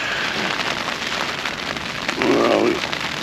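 Heavy rain drums steadily on a tarp at a cliff-edge camp, a dense close patter with a louder gust of spatter near the end.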